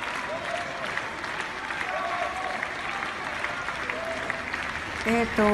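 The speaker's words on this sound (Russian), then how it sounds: "это было 5 минут бесконечных оваций, бесконечного счастья и уважения, которое оказывала публика исполнителям." Ballet audience's phone-recorded ovation at the very end of a performance of Nureyev: sustained dense applause across the whole stretch, with some voices mixed in and a few brief tonal sounds near the close.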